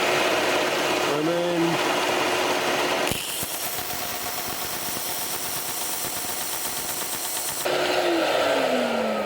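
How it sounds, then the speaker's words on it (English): A sanding machine switches on to sand a mitred wooden corner for a miniature automaton's house, running with a steady high whine for about four seconds and then stopping. Someone speaks briefly before and after. "So now all I need to do is to switch the sanding machine on"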